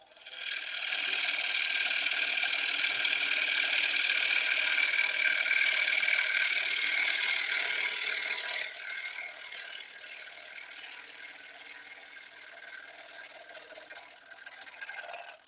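A wood lathe gouge takes a shearing peel cut across a turning bowl, riding the lower wing of the tool, giving a steady loud hiss that thins and softens partway through and carries on quieter to the end.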